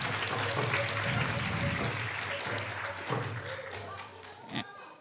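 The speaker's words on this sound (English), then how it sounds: "So let's give a round of applause to our cooks tonight." A live audience applauds the cooks at an evening devotional gathering, a broad, steady patter of clapping that fades toward the end, with some voices mixed in.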